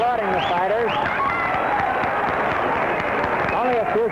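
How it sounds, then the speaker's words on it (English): A boxing crowd at the Blue Horizon arena applauds the fighters in a light-heavyweight bout as the round nears its end: a steady wash of clapping and murmuring fills the hall while a commentator talks over it throughout. "applauding the fighters"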